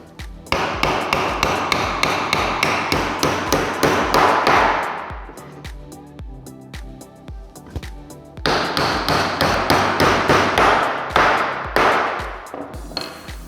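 Nails are hammered into a wooden planter box in rapid, evenly spaced blows, close and loud, in two bursts separated by a pause with lighter taps.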